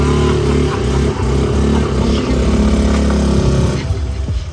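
Steady rumble of scooter traffic in Bali passing close by, a continuous busy drone with revving swells, loud throughout.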